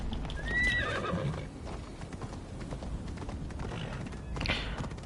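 A horse gallops in Assassin's Creed Odyssey, steady hoofbeats clip-clopping close by, with a brief whinny near the start, fairly quiet overall.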